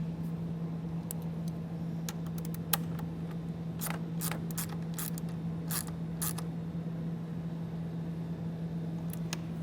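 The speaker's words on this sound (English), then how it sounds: "And then tighten the nut back down." Ratchet tightening a nut over a ring terminal while a towed-vehicle battery charge line kit is installed: a short series of crisp, close clicks in the middle of the clip over a steady background hum.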